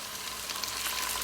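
Chopped tomato hitting golden fried onions in a hot pan for a chicken biryani, a steady close sizzle and crackle with no talk.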